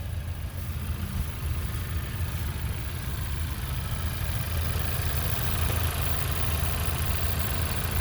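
A 2021 Honda Civic Type R with front-wheel drive idles, giving a smooth, even low rumble that holds steady throughout with no revving.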